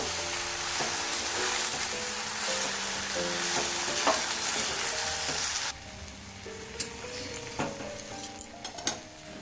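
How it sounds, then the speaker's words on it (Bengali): Jaggery stirred in a pan for jujube pickle, with a steady sizzle, scraping and occasional clinks of the spoon against the metal. The hiss softens midway. "গুড়টা দিয়ে ভালোভাবে নাড়াচাড়া করে নেব"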